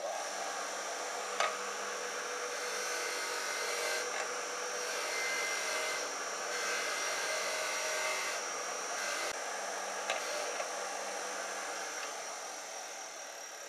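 A power tool whirs steadily against a rusty metal surface, a fairly quiet, continuous high-pitched grind with slight dips in intensity and a couple of brief clicks, with no talking.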